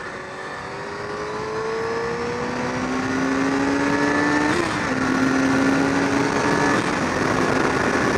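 A motorcycle engine revs up from a steady idle, the pitch climbing through rising whines and a brief shift before holding a loud, sustained drone nearby, with no one speaking.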